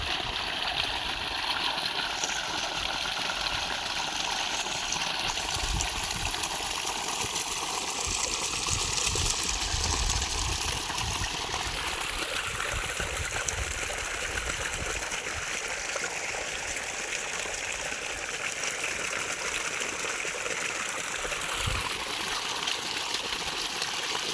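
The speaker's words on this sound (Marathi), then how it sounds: "हे पाणी बघा कसं मारते मोटर ही सिंगल पिचचीच मोटर आहे" Water gushes steadily from a single-phase motor pump irrigating a black gram field during hot summer, a continuous rushing, gurgling flow heard close and loud throughout with no talk.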